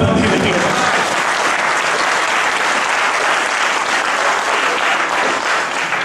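A large audience at a poetry gathering during Iqbal Week 2015 in Sialkot claps loudly and continuously, a dense, steady wash of applause throughout.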